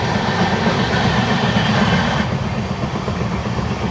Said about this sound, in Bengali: একদম অমৃত ভারত এক্সপ্রেস, নাগেরকয়েল NJP অমৃত ভারত এক্সপ্রেস 20604 ট্রেন নাম্বার।